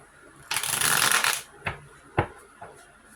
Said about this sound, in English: Allow me to shuffle.